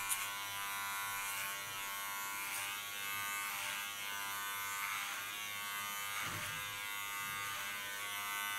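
An electric hair clipper cuts short hair with a continuous close, bright buzz that hums evenly throughout, while faint tugging swells mark the hair passing through the blades.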